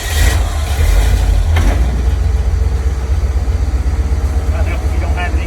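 A 1987 Chevrolet V30 one-ton crew cab truck engine catching and settling into a steady rumbling idle, loud and close, with a person talking over it.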